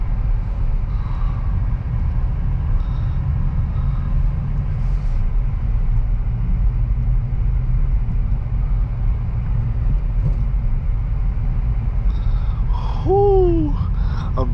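A 2023 Acura Integra's engine drones low and steady from inside the cabin while driving, a constant heavy rumble with little change and a brief high chirp near the end.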